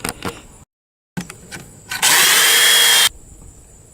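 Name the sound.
power drill boring pocket holes in wood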